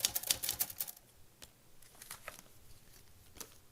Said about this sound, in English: One of the things I'm doing now is I'm incorporating a typewriter